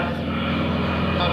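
A T-6 trainer airplane with a big 600-horsepower radial engine flies past at an air fair, giving a steady, loud engine drone that fills the whole short stretch. A voice speaks over it.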